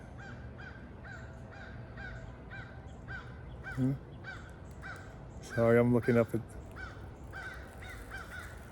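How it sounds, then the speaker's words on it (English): Crows cawing from overhead, a few short harsh calls standing out briefly over steady background noise and quiet talk. "Oh, there's some crows up there."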